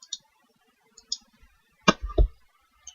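Mouse clicks on an application button, a few crisp, close clicks spaced irregularly, with a brief cluster near the middle, in an otherwise quiet room.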